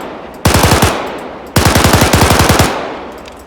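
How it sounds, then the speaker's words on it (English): Two loud, close bursts of MP44 automatic fire in the IFA3 Lite game, each a rapid string of about eight to ten sharp shots, separated by a brief pause and with no talking. "here we have the MP44, and this gun in IFA3 Lite is known to be it's got a huge kickback"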